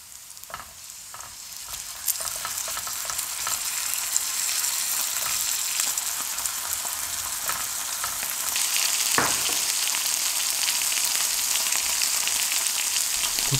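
Gochujang-marinated pork belly sizzles loudly and steadily in a pan, a continuous bright frying hiss that grows slightly louder partway through.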